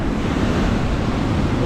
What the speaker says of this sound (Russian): Пошла волна.